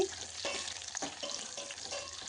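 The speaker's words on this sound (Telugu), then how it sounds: "కట్ చేసి పెట్టుకున్న ఎర్రగడ్డ, తెల్లగడ్డ వేసుకొని బాగా ఎర్రగా వచ్చే వరకు వేయించుకోండి" Chopped onion and garlic frying in oil in a pan for Rayalaseema menthi aaku pappu, a steady close sizzle with soft stirring scrapes now and then.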